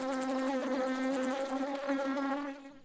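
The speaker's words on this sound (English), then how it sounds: "The bee is collecting nectar from the flowers." A cartoon bee buzzes steadily and close, a loud continuous drone with a bright harmonic tone that wavers slightly before fading at the end.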